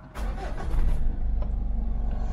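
A manual car's engine cranks and catches, then settles into a low, pulsing idle close by, with no talk over it.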